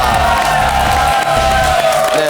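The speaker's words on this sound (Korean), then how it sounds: "우리 나머지 수고해주신 두 분께도 큰 박수 부탁드립니다" Studio audience on the KBS quiz show cheering and applauding for two contestants: a loud, continuous crowd roar with whoops and clapping that fills the whole stretch.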